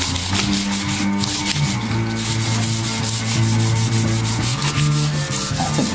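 A wooden Fender Jazzmaster guitar neck is hand-sanded in steady, rapid back-and-forth strokes, a loud, close, continuous rasping rhythm with a low hum beneath and no speech.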